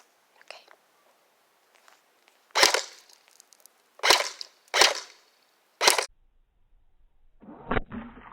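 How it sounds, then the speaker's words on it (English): Four separate single shots from an AUG-style airsoft rifle striking a cup, sharp cracks spaced a second or so apart, fairly close and loud, followed by a softer rustle and knock. "now we're going to shoot this cup. And we're going to single shot first"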